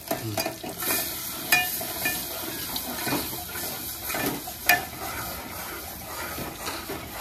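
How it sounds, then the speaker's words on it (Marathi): A spoon keeps stirring kadhi in a pan, giving a steady, close swishing and scraping over a faint simmering sizzle, with no talking. "असं ढवळत राहायचं कढीला"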